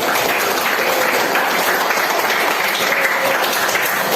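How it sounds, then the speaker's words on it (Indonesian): A classroom of students applauds a student trio, a dense and loud continuous clapping that holds steady for a few seconds without talk. "Tepuk tangan untuk trio."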